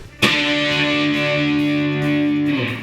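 A single distorted electric guitar D octave struck once and left ringing steadily for a few seconds, loud and alone, fading at the end.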